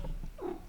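Pet cat Leo vocalizing close up indoors, a short soft meow-like call under a faint low purr, lasting under a second.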